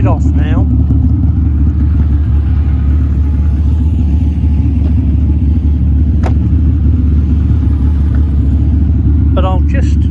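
A TVR Cerbera 4.2 V8 idles with a loud, steady, deep rumble throughout, while a voice briefly speaks over it.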